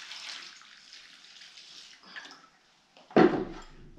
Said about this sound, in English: We're just going to tip some water.